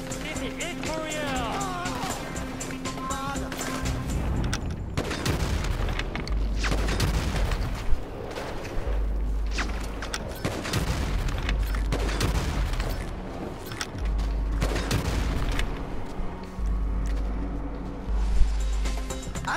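Gunfire bursts and booms from the Grand Theft Auto 5 video game ring out in sporadic volleys beneath frequent excited talking from a player.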